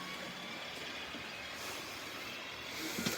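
A steady whirring, rumbling run of a small model Rhaetian Railway (RhB) train along its track, continuous and close, with a faint squeal near the end and no talking.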